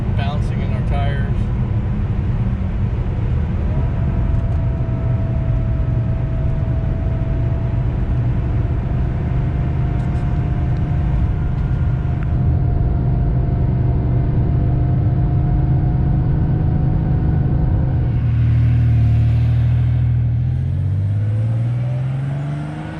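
A 1986 Porsche 930 Turbo driving on the road, heard from inside as a steady low engine and road drone with a faint whine, the engine note dropping and shifting near the end while someone talks throughout.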